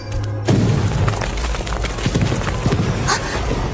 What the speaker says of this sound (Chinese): 啊，是枪声！